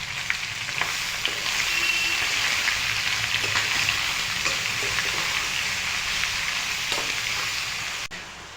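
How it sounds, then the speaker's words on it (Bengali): Chopped bottle gourd hits a pan of frying fish heads for a Bengali lau ghonto, giving a loud, steady sizzle of hot oil with faint stirring clicks throughout, with no talking. "এখন কেটে রাখা লাউগুলি দিয়ে দিচ্ছি"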